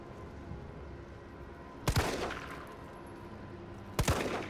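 Two heavy gunshots ring out about two seconds apart in Resident Evil 3 Remake, each with a booming, echoing tail over a steady low background rumble.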